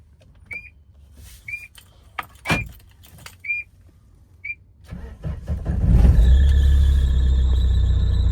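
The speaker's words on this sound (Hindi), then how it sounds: "आज गाड़ी स्टार्ट करके चला के बताते हैं आपको।" Tata Safari engine cranks and fires after a few seconds of sharp metallic clicks and squeaks, then settles into a loud, steady running rumble close by, with a high whine riding on top.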